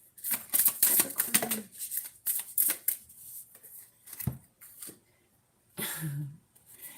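Tarot cards being shuffled, bursts of riffling and flicking close to the microphone with brief pauses and quieter stretches between.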